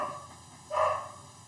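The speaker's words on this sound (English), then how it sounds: "Pardon my dog." A single short bark from a pet dog indoors, moderately loud over a steady background hum, with no one speaking.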